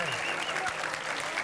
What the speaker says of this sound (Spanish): ¡Aplaudos, señores, sin cesar!